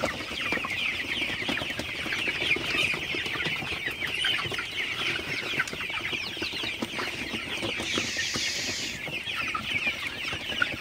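Golden super hybrid chickens clucking steadily at night on a farm, a dense flock chorus of overlapping clucks and calls, close and continuous throughout with no talk.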